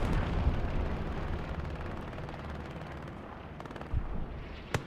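Artillery shells strike around a hard camp in the World War II shooter Hell Let Loose, a dense continuous rumble of blasts and gunfire with a couple of sharper nearby bangs toward the end.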